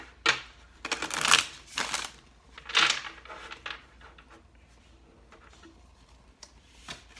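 Tarot cards are shuffled up close in several quick riffling bursts, then things quiet down and a couple of faint taps follow near the end.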